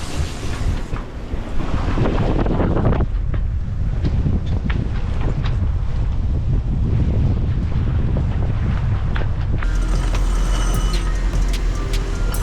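A sailboat running fast under wind at sea, with heavy wind buffeting and rushing water and waves churning steadily and loudly throughout.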